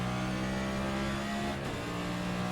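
A NASCAR stock car's engine drones in iRacing on the Nordschleife, held at a steady throttle with a constant buzzing tone and a brief dip before settling back to the same note.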